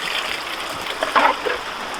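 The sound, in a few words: water poured over a gold sluice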